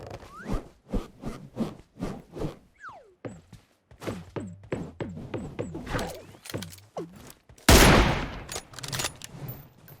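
Rapid bursts of gunfire in the battle royale game PUBG Mobile, with repeated rattling volleys and single shots through the clip, plus a louder close blast near the end.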